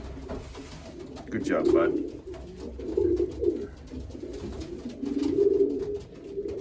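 Racing pigeons coo in a nest of young birds, several soft, low throaty coos coming in rhythmic bursts close up, while someone speaks briefly and softly nearby.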